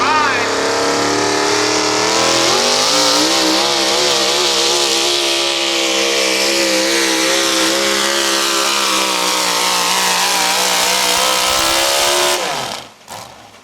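A Chevrolet pulling truck with a 302 engine roars at full throttle at a truck pull, a loud sustained high-pitched scream with rising pitch and steady power for about twelve seconds before cutting off abruptly.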